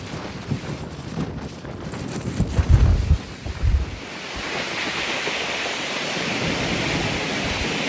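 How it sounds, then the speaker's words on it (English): Strong wind gusts outdoors beside a road, buffeting loudly at first, then settling into a steady roaring rush that fills the rest of the stretch. "Oh. Very, very windy."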